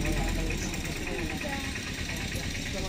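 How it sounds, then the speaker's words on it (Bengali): A motorbike engine runs at a steady idle-like drone during a wedding gathering, partly buried under nearby voices talking. "বাইক তোমার আওয়াজ"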